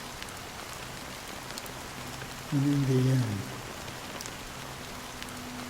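Steady rain falls in the video game Honkai: Star Rail as a soft, constant hiss on surfaces. A voice speaks briefly over it partway through.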